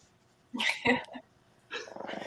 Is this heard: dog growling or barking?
yes